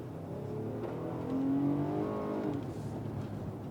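A 2025 Ram 1500 pickup's V6 engine revs up and accelerates, the drone rising in pitch and loudness midway before easing off, heard fairly faint.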